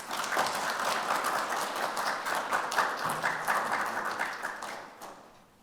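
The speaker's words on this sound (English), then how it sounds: "with a hand of applause, let's welcome Kevin Hill." An audience at a career and care summit applauds to welcome a speaker, a dense steady burst of many hands clapping that fades out toward the end.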